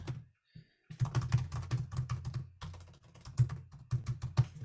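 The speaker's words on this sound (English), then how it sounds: "we might just type a sentence" Typing on a computer keyboard, a steady run of close, crisp key clicks tapping out a sentence, with a short pause near the start before the keystrokes continue without talk.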